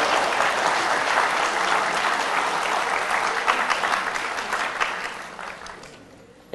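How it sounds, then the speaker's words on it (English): Audience applause filling a Founders Day convocation hall, a dense steady wash of clapping hands that holds strong for several seconds, then thins and tapers off toward the end. "We just give this group another round of applause."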